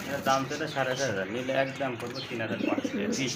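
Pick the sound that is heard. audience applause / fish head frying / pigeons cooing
pigeons cooing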